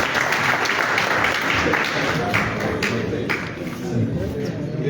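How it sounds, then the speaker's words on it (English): Round of applause at the official launch of a national food assistance strategic plan, a steady wash of clapping filling the room for the whole stretch with speech-like sounds mixed in. "Let's give WP a round of applause."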